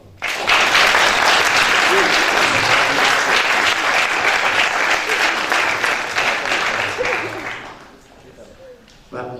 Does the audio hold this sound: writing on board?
no